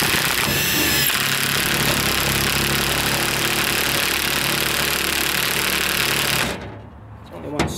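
A power tool drives a 3/8 fastener into a new trailer board with a loud, rough, continuous grinding rattle. It cuts off abruptly near the end, leaving a brief quieter tail.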